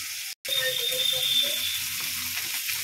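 Dried red chillies sizzle and crackle in a small amount of hot cooking oil, a steady close frying hiss with faint stirring.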